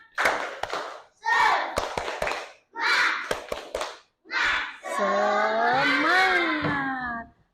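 A school class performs a rhythmic spirit clap, short bursts of children's voices punctuated by sharp group hand claps, ending in a long sustained chanted cheer.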